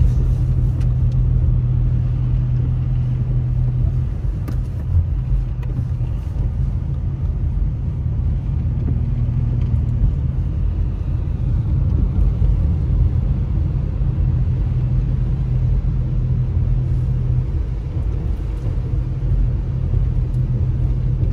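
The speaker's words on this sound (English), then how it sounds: "But you still are gonna get your extremely slow vehicles going this other way" Cars drive slowly along a snowy mountain road in Big Bear during heavy snowfall, a steady low rumble of engines and tires that stays continuous and moderately loud throughout, with no talking.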